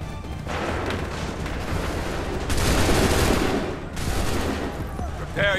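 Musket volleys roar in Assassin's Creed III, a dense, loud crackling fusillade of many shots firing together that surges and swells across the battle line, with shouted orders faintly mixed in.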